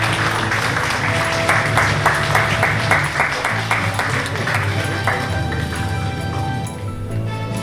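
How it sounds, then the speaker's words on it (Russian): Applause at a photo contest award ceremony in Temirtau, a steady patter of clapping mixed with rhythmic music playing underneath, moderately loud throughout and fading slightly near the end. "Под ваши аплодисменты"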